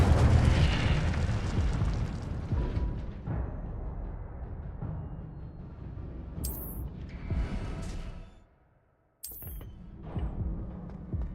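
An Incendio fire spell blasting in the Hogwarts Legacy video game, opening with a loud eruptive roar that slowly fades into a low rumble, followed by sharp bright bursts and a brief drop to near silence.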